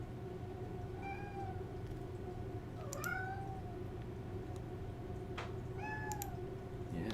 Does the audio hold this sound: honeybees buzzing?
no